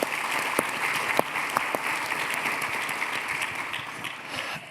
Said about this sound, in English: a big round of applause for Calvin Holmes and getting us warmed up,